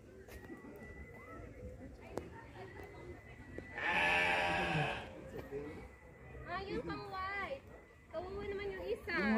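A goat at a zoo in Tagaytay lets out one long, loud, wavering bleat midway, while people chatter and other animal calls and light hoof sounds mix in around it.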